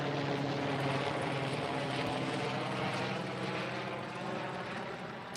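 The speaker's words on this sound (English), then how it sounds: "Let this helicopter pass." A helicopter flies overhead in an outdoor van-life setting near San Diego, its steady rotor thrum and engine roar holding loud and continuous before fading slightly toward the end.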